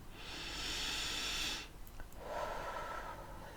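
A long, loud breath pushed out through the mouth during a guided breathing exercise, a broad airy hiss lasting over a second, then a softer second exhale, close and alone without talk.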